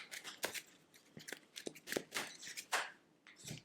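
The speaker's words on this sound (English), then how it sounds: "I'm taking these cards, as you can see, I'm shuffling them" Tarot cards are shuffled by hand close up, a quick series of crisp papery riffles and flicks in irregular bursts.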